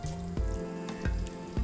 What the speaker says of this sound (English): There's a little bit of a sizzle